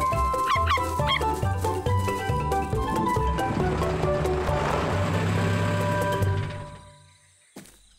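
A cartoon Tasmanian devil calls out with yipping, whimpering, dog-like cries, loud and steady for several seconds before fading at the end.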